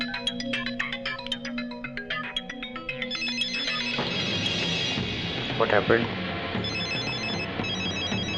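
A phone ringtone plays as a repeating melodic tone pattern for the first few seconds. Movie dialogue and music then take over, with people talking over it.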